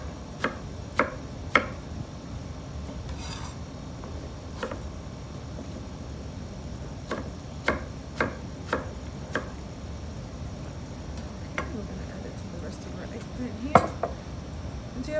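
A kitchen knife slices eggplant into oblong pieces for a bitter melon stir fry, giving scattered sharp chops on a cutting board in irregular bursts, fairly close and moderately loud over a faint low background.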